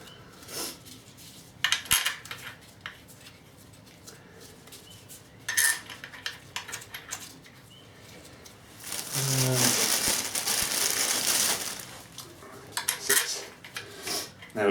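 Metal flywheel bolts being set in place on a VW camper TDI engine, giving scattered clinks and rattles that build to a dense metallic jangle partway through, close up, with faint talk at times.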